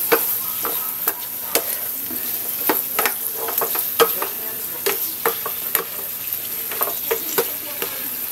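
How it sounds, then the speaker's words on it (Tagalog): Long beans and fish fry in a pan for a Filipino dish while a spatula stirs them, giving a continuous close sizzle broken by sharp, frequent scraping clicks. "haluin natin"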